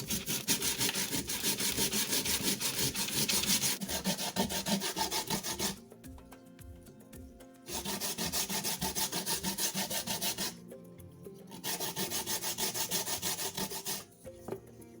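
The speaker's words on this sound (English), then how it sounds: "so let's begin grating" Cassava is grated by hand on a grater for making gari, a rapid rough rasping scrape in long bursts separated by brief pauses, close and fairly loud, with no talking.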